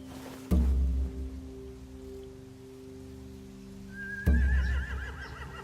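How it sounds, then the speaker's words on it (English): Two loud horse whinnies, one near the start and one near the end, ring out in The Walking Dead game, each a sharp cry trailing off over a low steady hum. "They have horses."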